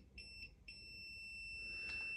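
A mobility scooter sounds three short electronic beeps followed by one long, continuous steady tone, fairly quiet and alone.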